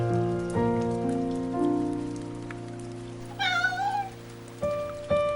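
Steady rain patters continuously through a cold, rainy scene in a 3D animation, under soft sustained musical tones, with a small kitten meowing briefly partway through.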